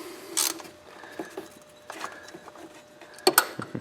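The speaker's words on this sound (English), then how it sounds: "we will bolt on our pulley to the proper torque specs" A ratchet tightens pulley bolts on a Mercedes C230 water pump, with quick close clicking pawl runs and metallic clanks in uneven bursts, alone without talk.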